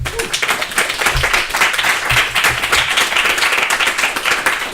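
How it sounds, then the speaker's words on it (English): Sustained applause from a conference audience at a level design talk, dense steady clapping throughout with no talking. "so an applause for him, please"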